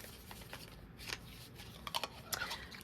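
A deck of tarot cards is shuffled close up, giving soft, uneven riffling and sliding rustles that end in a few sharper flicks, with no speech.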